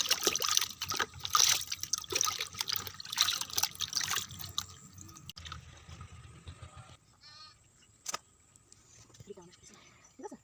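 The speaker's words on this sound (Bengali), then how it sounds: "এখন আমি মাছটা ভালো করে পরিষ্কার পানি দিয়ে ধুয়ে নিচ্ছি, কচলিয়ে কুচলিয়ে।" A big silver carp gets rubbed and rinsed under clean running water, with splashing and trickling in the first half before the sound thins to soft drips and handling noises.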